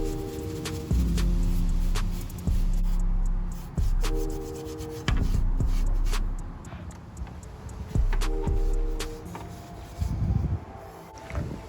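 Rust converter brushed onto the badly rusted inner structure of a Toyota Corolla KE70: close, steady scrubbing strokes in repeated bursts with brief pauses, loud and rough throughout.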